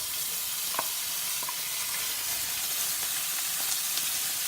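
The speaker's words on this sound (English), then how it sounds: "the first thing I do is I go ahead and I start cooking the sausage here" Sliced rounds of smoked sausage fry in a pan for Cajun pasta, a loud, even, continuous sizzle and hiss from start to finish with only a few faint ticks, no one talking.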